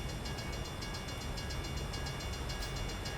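A train rumbles past in the American Truck Simulator video game, a steady low roll with faint rhythmic clacking heard unseen at night, continuous and moderately quiet with no talk.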